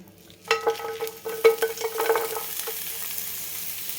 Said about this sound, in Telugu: ఇలా నూనె వేసి వేడి చేసుకుని ఇందులో ఉల్లిపాయలన్నీ వేసుకుని